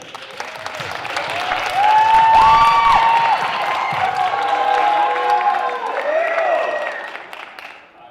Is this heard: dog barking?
no